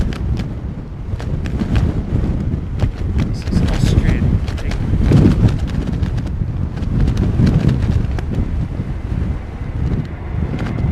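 Strong gusting wind from Storm Darragh at London Heathrow Airport batters the microphone with a loud, continuous low roar that swells and eases over the whole stretch.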